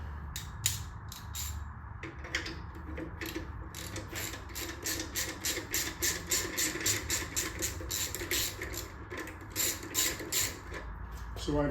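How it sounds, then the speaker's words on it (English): Rear brake adjuster on a Shovelhead motorcycle wheel being loosened, giving a long run of rapid, evenly spaced ratcheting clicks from a close hand tool, steady and fairly loud throughout. "I'm now going to loosen our adjuster off."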